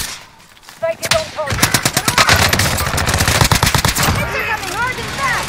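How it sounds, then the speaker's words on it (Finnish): Rapid automatic gunfire crackles loud and close in a Call of Duty Rebirth Island match, long sustained bursts of shots with a few single cracks at the start, while players talk excitedly over it. "mua ammutaan tuolta!"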